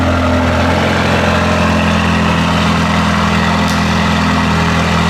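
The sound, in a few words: Mercedes-AMG GT Black Series engine starting and idling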